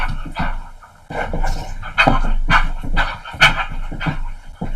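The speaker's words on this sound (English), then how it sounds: "And if you can hear panting," A dog panting in quick, breathy bursts while chasing its own tail from a sitting position, the rhythmic huffs close and fairly loud with small vocal whines mixed in.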